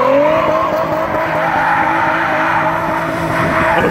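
Nissan 350Z drifting sideways, its tires squealing in a loud, sustained screech over a roaring engine that holds steady near and close for the whole stretch.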